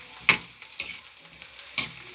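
Chopped onions sautéing in oil for Filipino pork adobo, giving a soft, steady sizzle with a few brief stirring scrapes close by, and no voices.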